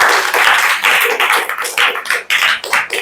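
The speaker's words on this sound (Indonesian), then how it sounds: "Kita berikan tepuk tangan untuk kelompok 6." Classroom applause for a student group about to present, a brisk burst of many hands clapping close by for about three seconds, uneven and lively, with no talking over it.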